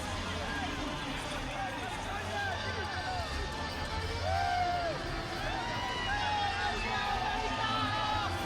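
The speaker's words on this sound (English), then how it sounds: "he's getting a warm reception from the crowd in Dallas as he comes to the ring" Arena crowd in Dallas cheers and roars steadily as a boxer walks to the ring, a dense, loud hubbub of many voices with no breaks.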